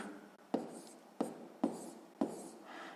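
Four separate taps of a pen or pencil on paper as a math answer is written down for a sixth-grade exercise, each tap soft and close, spaced about half a second apart over a quiet background.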